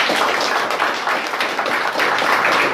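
Church congregation at a water baptism service applauding, dense continuous clapping from many hands, loud and close throughout a short burst with no voices over it.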